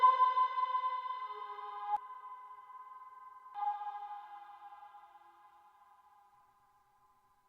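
Eurorack synthesizer run through a Clouds module in reverb mode, sustained glassy tones with a cluster of bright partials that shift pitch twice and slowly decay into a long fading tail, alone without voices.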